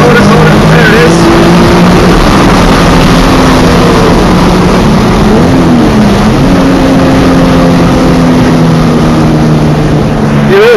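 A loud race car engine drones and revs continuously at a Brisbane Powerplay event, its pitch rising and dipping as it strains through the gears into third and fourth.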